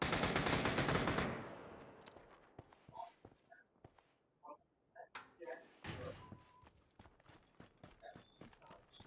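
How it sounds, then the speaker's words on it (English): Gunfire in the PUBG video game, a dense volley of shots at first, then scattered single and rapid cracks with footsteps, while a player talks over it. "I'm already under fire. I'm already getting shot at."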